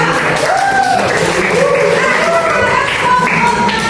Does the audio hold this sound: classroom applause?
yes